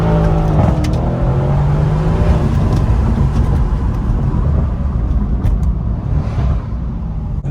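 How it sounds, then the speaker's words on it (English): Stock bi-turbo V8 of a Mercedes-AMG C63 rumbling loud and close, a deep continuous exhaust drone with scattered sharp pops and crackles across several seconds, no talk. "It's stock as hell, popping like that."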